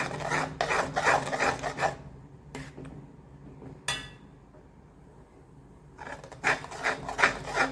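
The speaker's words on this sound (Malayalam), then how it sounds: "നല്ലോണം മിക്സ് ചെയ്ത് കൊടുക്കുക." A utensil scrapes through mango pulp cooking in a pan, making close, rasping strokes in quick bursts, then a quiet pause broken by a single knock before the rhythmic scraping resumes.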